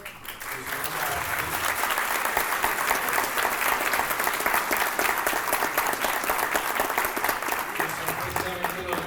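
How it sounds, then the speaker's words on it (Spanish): A large audience at a Colombian university electoral forum applauds the police forces with steady, dense clapping that holds at an even level for the full stretch, with no voices standing out above it. "Yo quiero pedir aquí un aplauso para nuestros miembros de la fuerza pública"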